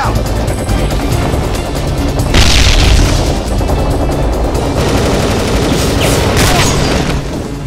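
Loud boom of a frag grenade exploding in the online shooter M.A.R.S Online, over a dense wash of gunfire and battle noise that runs throughout, with a further blast rumbling later.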